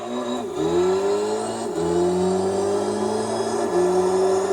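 Loud Mitsubishi Lancer Evo VI GSR Tommi Makinen Edition engine from Gran Turismo 3 climbing through revs, with two quick upshifts dropping the pitch before it pulls again, heard alone with no talk.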